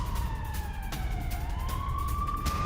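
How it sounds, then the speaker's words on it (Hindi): An air raid siren wails across Israel during an Iranian missile attack, its pitch falling and then rising again over a steady low rumble, loud and continuous with no talking. "पूरे इजराइल में हमलों के लगातार सायरन भी बज रहे हैं"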